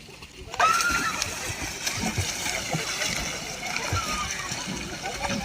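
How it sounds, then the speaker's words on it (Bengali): Water splashes and sloshes around someone bathing in a river, with irregular close splashes running throughout while people talk over them. "আজকে চান করতে নেমেছি"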